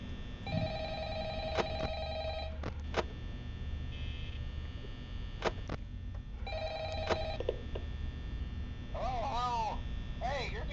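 An old-style telephone ringing in the video game Five Nights at Freddy's, two long trilling rings with short clicks between them, steady and moderately loud over a low electrical hum, followed by faint warbling electronic tones.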